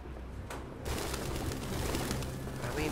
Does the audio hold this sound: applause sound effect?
no